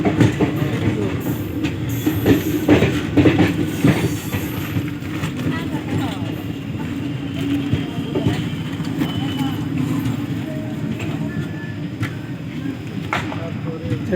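The Bagh Express runs from Howrah to Kathgodam with a loud, continuous rumble and rattle from inside the moving train, with rhythmic clickety-clack of the wheels and occasional background voices.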